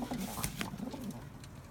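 Pigeons coo softly inside a loft, low murmuring calls at a moderate distance over a faint, busy background.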